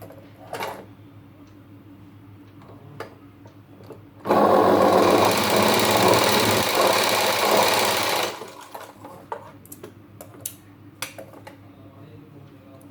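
A sewing machine stitches a blouse katori lining in one loud, steady burst of about four seconds, preceded and followed by quiet handling noises and a few soft clicks.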